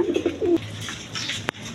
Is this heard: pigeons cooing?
yes